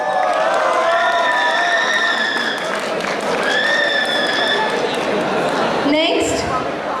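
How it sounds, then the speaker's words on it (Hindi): An audience at a college freshers' event keeps up sustained applause and cheering, with voices shouting and calling out over the clapping throughout. "तालियां रुकनी नहीं चाहिए।"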